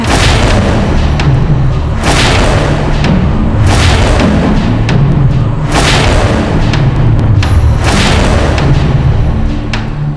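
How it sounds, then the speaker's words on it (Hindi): Mughal cannons fire in a battle, a series of heavy, loud booms every second or two over a continuous low rumble, close and without voices. "मुगलों ने तोप क्यों चलाई और किस पे?"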